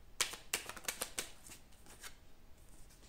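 Tarot cards shuffled and drawn by hand in a quiet room: a quick run of soft riffling flicks and slaps, close and faint, trailing into lighter rustles.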